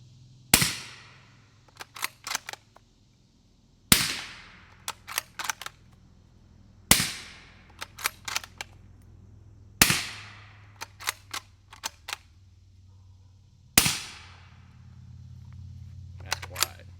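Five suppressed shots from a Ruger American rifle in 350 Legend firing 255-grain Winchester Super Suppressed subsonic loads, each a sharp muted crack about three seconds apart, followed by quick metallic bolt-action clicks.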